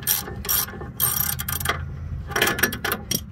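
Ratcheting wrench clicking as it loosens the rear brake caliper bolts on a 2009 Chevy Traverse, several close bursts of sharp ratchet clicks separated by short pauses.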